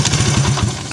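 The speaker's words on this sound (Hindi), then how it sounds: "हमारी मोटर बाइक की पहली से दूसरी किक में स्टार्ट हो गई है" A Honda CD70 motorcycle running after being kick-started, its small single-cylinder engine idling loudly and close with a steady, slightly uneven putter.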